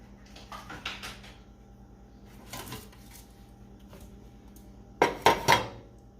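Cut pieces of keto fudge go into a metal pan lined with cupcake liners; soft faint shuffling gives way to a quick cluster of sharp metallic clinks near the end.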